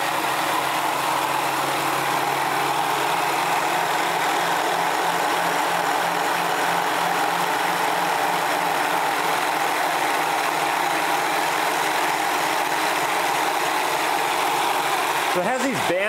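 A steady electric motor drives a Searl effect generator, producing a constant, even whir and hum with a faint pulsing oscillation, close and unbroken throughout, ending with a brief shift in tone.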